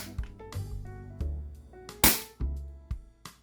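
A spring-type airgun, an S2D, fires during power testing over a chronograph: one sharp loud crack near the middle, set among several softer clicks and knocks from handling nearby.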